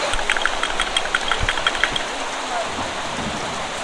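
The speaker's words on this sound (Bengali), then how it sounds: "বাইরে খুব ঝুম বৃষ্টি হচ্ছে" Heavy rain pours outside near a railway station as a continuous broadband hiss. A low idling engine rumbles and small clicks sound beneath it, with faint voices in the background.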